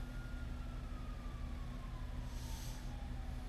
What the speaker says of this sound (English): Sirens now.